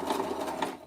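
Sewing machine stitching lingerie fabric in a short quick burst of rapid needle chatter, fairly quiet and heard alone.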